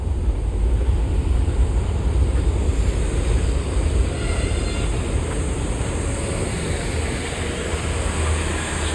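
A loud, continuous rumble and roar of an elevated LRT train passing close overhead beside the Pasig River esplanade in Manila, sustained throughout without letting up.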